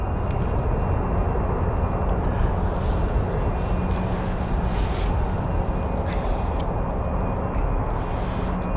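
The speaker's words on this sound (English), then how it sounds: "Got an Embraer Legacy 600 moving as well" An Embraer Legacy 600 business jet taxies at Stansted Airport, its engines giving a steady, dense roar that holds evenly throughout at moderate distance, with a faint high whine running through it.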